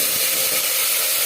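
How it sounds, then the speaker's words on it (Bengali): A bay leaf fries in four spoonfuls of hot refined oil for a mutton biryani tempering, giving a steady, close, hissing sizzle that holds evenly throughout with no talk. "4 চামচ রিফাইন্ড অয়েল গরম করে নেওয়ার পর ফোড়নে দিয়ে দিলাম একটা তেজপাতা"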